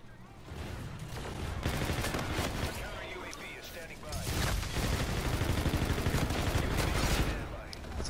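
A UMP submachine gun in a first-person shooter game rattles off long, loud automatic bursts with a brief pause in between, the fire continuing almost without break, while someone talks over it.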